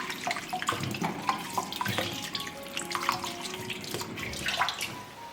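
Tap water runs and splashes while fresh garlic bulbs are rinsed by hand in a sink, a steady close splattering with irregular drips and bumps throughout.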